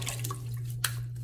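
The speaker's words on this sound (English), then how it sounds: "Let me put a little bit more water." Water trickles and drips into a shaving lather bowl, a soft, close liquid patter with one sharper splash, faint against a low hum.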